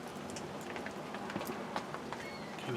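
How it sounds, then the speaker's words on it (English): Light rain just beginning to fall outdoors in a small back-step garden, a soft steady patter of scattered drops across the whole stretch with no talk. "And it's starting to rain."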